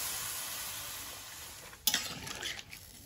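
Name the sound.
stirring crab curry in a pan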